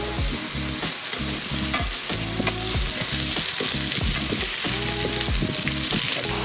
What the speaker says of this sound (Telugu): ఇంకా ఆలు అండ్ క్యాప్సికమ్ రెండు వేసేస్తున్నాను